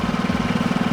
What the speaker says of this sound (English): Rev the engine up all the way.